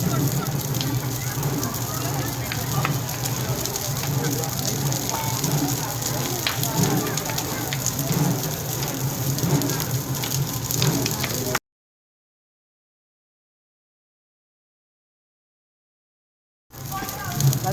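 A Holi bonfire burns with a dense, steady crackle and roar for about twelve seconds before cutting to silence, then resumes briefly. Voices are faintly mixed in.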